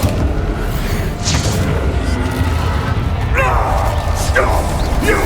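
Bombarda blasting-spell explosion in the Hogwarts Legacy game, a deep booming blast amid ongoing combat effects, with a character's voice calling out during the fight.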